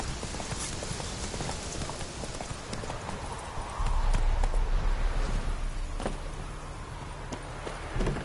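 Horse hooves clip-clop steadily in The Witcher 3, a continuous rhythmic walking gait close up with outdoor game ambience and a louder stretch midway.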